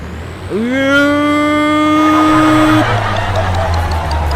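A tractor-mounted pump draws water in Farming Simulator 22: a loud, steady mechanical drone with a whining tone that swoops upward, holds level for about two seconds, then cuts off while the rumble continues.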